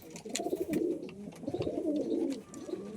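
Pigeons cooing close by in a soft, repeated rolling rhythm, with no talking over the calls.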